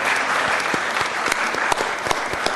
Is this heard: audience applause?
yes